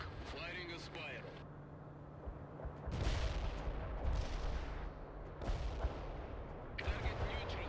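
Gunfire and artillery from the World in Conflict video game: repeated booming blasts and crackling shots at moderate distance, interleaved with radio-style voice chatter.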